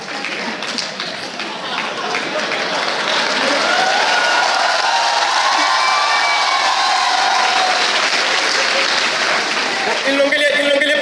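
Applause and crowd noise from an audience at a boys' hostel day event, a broad steady wash of clapping that holds for several seconds, with voices mixed in throughout.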